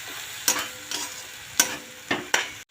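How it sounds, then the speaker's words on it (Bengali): Spinach and mixed vegetables frying in a pan: a low sizzle punctuated by five sharp spatula scrapes at uneven intervals, close and fairly loud, ending abruptly. "দেখো ভাজা ভাজা হয়ে গেছে, শাকটাও মজে গেছে"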